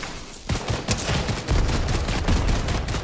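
Rapid bursts of gunfire from a squad shooter video game. Loud, dense volleys crack repeatedly over about three seconds after a short quiet start, and no one speaks.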